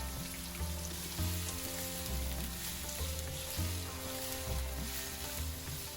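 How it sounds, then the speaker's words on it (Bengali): Chopped onions frying in oil with bay leaf, cinnamon and cardamom in a pan, a steady dense crackling sizzle held at an even level from start to finish, with background music beneath. "পেঁয়াজগুলাকে ভালো করে ভেজে নিব।"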